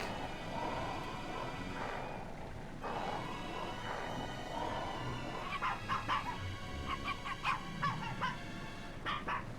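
Dogs bark and whine in the Wallace and Gromit's Grand Adventures video game, a series of short, fairly faint yelps toward the end over a low background of game sound.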